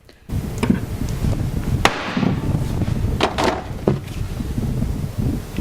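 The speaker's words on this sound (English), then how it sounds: "Just hitting a hammer on that piece of wood." A hammer strikes a piece of wood several times in irregular sharp knocks over a noisy, windy background.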